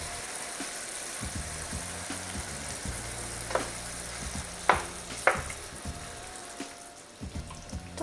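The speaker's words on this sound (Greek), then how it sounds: "Σοτάρουμε και τον κιμά για 2-3 λεπτάκια." Minced meat sautéing with tomato in a pan gives a continuous soft sizzle and bubbling, broken by a few louder clinks of a utensil against the pan.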